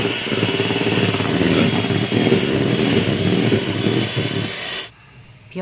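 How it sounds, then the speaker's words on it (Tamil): An electric mixer beats cake batter for a soft bakery-style cake in a steady, loud, close whirring drone that stops abruptly near the end. "பியோர் ஒயிட்டாக வர லெவலுக்கு பீட் பண்ணி எடுத்துக்கலாம்"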